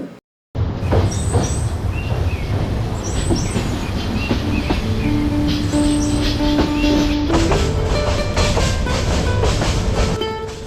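A passenger train runs along rails in Sylhet, Bangladesh, heard up close from inside: a loud steady rumble with rhythmic wheel clatter, metallic squeals and tonal whines over roughly ten seconds, no speech.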